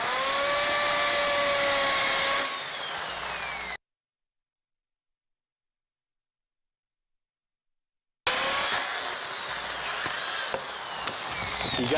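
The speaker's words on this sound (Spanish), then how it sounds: "qué pena con el ruido que produce el taladro" An electric drill bores angled holes, at about 45 degrees, into wood while building a nativity scene, giving a loud, close, continuous whine that cuts out into silence for several seconds, then starts up again.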